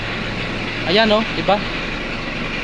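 A heavy truck engine idles with its PTO engaged, a steady low drone, while someone speaks briefly over it, close by.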